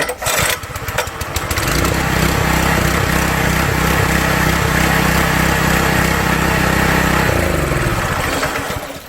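Small engine of a power sprayer starting: a brief pull-start rattle, then the motor catches and runs at a loud, steady mid-pitched drone for several seconds before dying away near the end.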